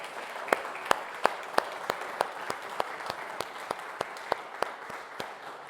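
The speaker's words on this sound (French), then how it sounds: "Applaudissons le Seigneur." A church congregation applauds during a Sunday service, a dense spread of clapping with sharper individual claps standing out in a fairly regular rhythm throughout.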